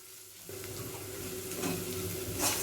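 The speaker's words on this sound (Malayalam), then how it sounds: "അപ്പോൾ ഒരു ഏകദേശം ലോ ടു മീഡിയം ഫ്ലെയിമിൽ വെച്ചിട്ട് നല്ലോണം വഴറ്റിയെടുക്കാം." Onions sautéing in a pan over a low-to-medium flame give a steady, soft sizzle that swells slightly toward the end, with a brief stir of the spatula; no talking.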